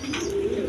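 Pigeons coo in a loud, close, sustained throaty burble, a single unbroken low call with no talking.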